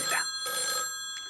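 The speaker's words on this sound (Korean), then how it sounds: "다음 날 리웨한테 한 통의 전화가 옵니다" A telephone rings in two or three short electronic trill bursts with a steady tonal ring, fairly close and alone, with no talk over it.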